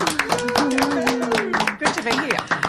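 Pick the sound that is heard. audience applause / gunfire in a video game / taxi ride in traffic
audience applause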